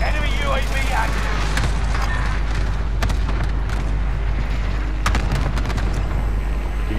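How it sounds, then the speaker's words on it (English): A cluster strike in a Call of Duty match sets off a dense wall of explosive booms and rumbling, loud and constant for the whole stretch, with scattered sharper cracks along the way. "Allied cluster strike arriving"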